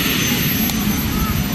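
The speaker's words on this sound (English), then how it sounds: "Let's watch a more accomplished pilot flying a very expensive turbine" A turbine-powered model airplane flies at a model aircraft field, giving a steady, loud jet roar with a thin high whine over it. The sound is continuous and unbroken for the short stretch.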